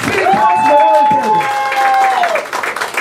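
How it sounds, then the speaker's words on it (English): A crowd at a Bay Ridge community meeting claps and cheers for a New York City councilman, with a loud voice calling out over steady applause that tapers near the end. "Let's give him a round of applause"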